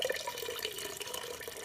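Malt liquor pours from a can into a pot of blue crab mixture, a quiet steady liquid splashing and trickling with small glugs, close by and alone.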